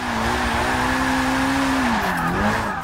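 A Mitsubishi Evo IX MR drift build in Forza 6, converted to rear-wheel drive, slides sideways with a long sustained tire squeal over a steady engine drone, the pitch wavering near the end.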